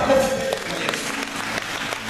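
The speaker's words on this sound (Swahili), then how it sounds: "Kama upo na mimi, piga makofi." A church congregation at a worship service claps together in a brief burst of applause as a preacher's voice continues over it.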